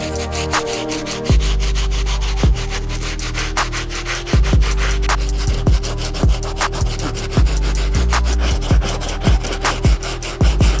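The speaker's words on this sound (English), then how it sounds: "I'm gonna go back to the stiff bristle brush and hit the outsole this time." A stiff bristle brush scrubs the outsole of an Air Jordan 1 Low sneaker in loud, rhythmic back-and-forth rasping strokes, close up and steady, with no talking.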